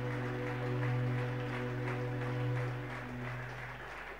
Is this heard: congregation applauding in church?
yes